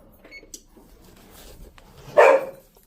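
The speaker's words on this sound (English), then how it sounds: "Dog's getting angry with the puppies" A dog growls and then gives one loud bark at puppies in a home kitchen, low rumbling sounds building to a single sharp bark near the end.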